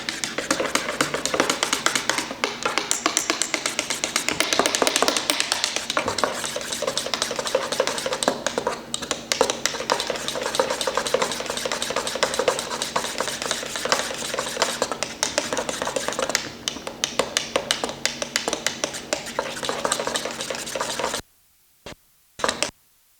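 A spoon clinks and scrapes steadily in a cup as a quarter teaspoon of cinnamon is stirred into a xocoatl chocolate drink, quick rhythmic taps continuing close up for about twenty seconds before stopping.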